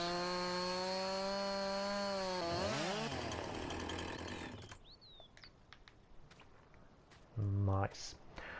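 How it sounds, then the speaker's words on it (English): A chainsaw in a farming video game cuts through tree stumps, its steady, loud engine drone lasting several seconds before cutting off, followed by quieter clatter and a short burst near the end. "now I have a chainsaw, and I wanted to get rid of these stumps here"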